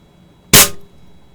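A single sharp, loud crack of a BB or pellet gun firing, short and close, against near silence.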